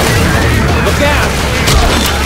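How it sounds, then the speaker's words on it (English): Loud pipe bomb blast in the Left 4 Dead 2 zombie shooter, a dense, roaring burst of booms and crackling debris that fills the whole stretch, with shouting voices mixed in. "Hey, watch out! Pipe bomb!"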